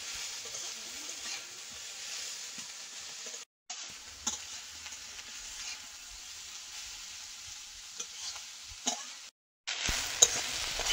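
Long beans and onion stalks with salted fish sizzling steadily in hot oil, with occasional stirring clicks and two brief dropouts to silence.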